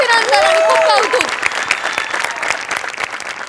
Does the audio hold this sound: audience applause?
yes